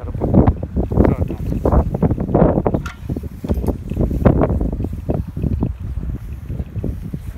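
Cold wind gusts outdoors near a Weima 1100a-6 walk-behind tractor, loud buffeting rumble across the microphone in continuous waves with no pauses.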